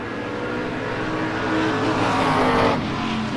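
Drag race cars launching side by side at a no-box 660 shootout, a wagon against a Chevelle, their engines roaring loud and close in a steady rising blast that swells and then cuts off near the end.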